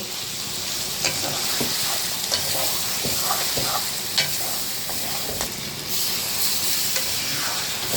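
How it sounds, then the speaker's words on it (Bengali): Pieces of fried chital fish go into a pan of well-cooked onion masala, producing a loud continuous sizzle with occasional stirring scrapes and knocks close by. "পেঁয়াজটা কষানো হয়ে গেছে এখন আমি ভেজে রাখা মাছগুলো দিয়ে দিব"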